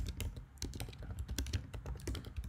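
Keys clatter on a computer keyboard as a code comment is typed, a steady run of quick, close clicks and taps with no voices.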